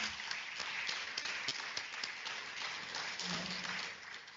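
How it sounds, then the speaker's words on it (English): Faint, continuous applause from the audience at the signing ceremony of a cooperation agreement between UMIP and MMA, an even wash of many hands heard from a distance, with no voices over it. "A big round of applause, ladies and gentlemen."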